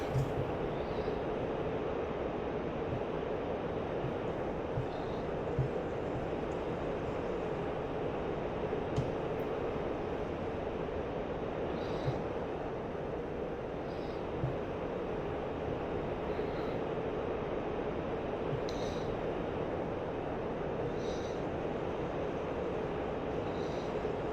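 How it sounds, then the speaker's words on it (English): Twin engines of a MiG-19P jet in DCS World drone steadily as the throttles come back out of afterburner, a constant dense rumble with no talk over it. "So to turn the burners off, I'm just bringing the throttles back."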